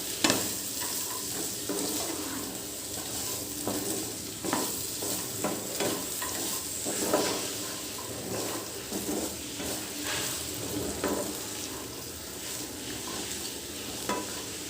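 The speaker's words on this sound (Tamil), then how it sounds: "எண்ணெயிலே வந்து ஸ்லோவாக வச்சுட்டு வேகணும்." Chicken frying slowly in oil gives a continuous low sizzle with a spoon scraping and stirring at intervals.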